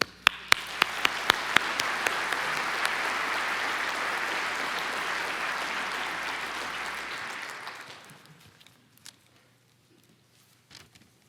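An audience gives steady applause to welcome economist Stu Myers to the podium at an MIT event, a few sharp claps leading into a sustained wash of clapping that fades out near the end.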